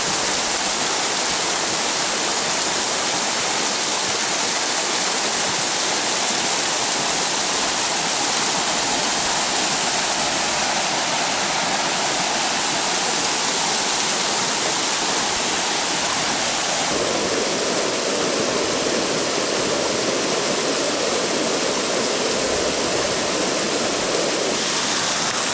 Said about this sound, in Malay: Ya, nah suasana di air terjun Alumu.